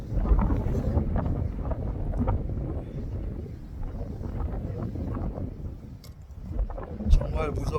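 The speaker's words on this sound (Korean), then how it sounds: "강풍, 태풍." Strong gale-force wind blasts across the high rocky ridge of Seoraksan mountain, roaring and buffeting the microphone in continuous loud rumbling gusts, with one sharper gust near the end and no clear talking.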